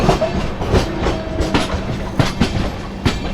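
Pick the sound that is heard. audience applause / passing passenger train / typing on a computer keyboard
passing passenger train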